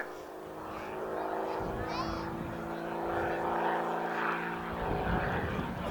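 A propeller aerobatic aircraft passes inverted at the RAF Cosford air show, its engine drone loud and sustained throughout, rising and swelling as it goes by, with a commentator's voice over the public address.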